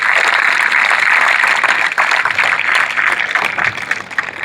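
An audience at a college sports day claps to thank the teachers, a steady, loud wash of applause that continues for several seconds without speech.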